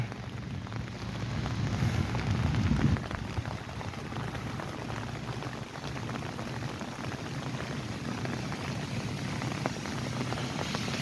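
Steady rain hisses and patters continuously, with a brief low rumble near the start and no voices.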